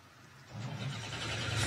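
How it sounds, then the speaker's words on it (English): Race car engines starting up together in the GT field at Watkins Glen, a low mechanical rumble that builds after a brief lull and holds steady as more engines join, loud and continuous without speech. "And on cue, the engines spring to life."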